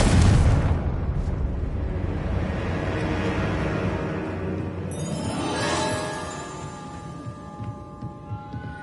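Confringo blasting spell from Hogwarts Legacy erupts in a loud, close explosion with a heavy low-end boom that decays into a long rumbling, crackling tail, with a brighter ringing layer entering partway through.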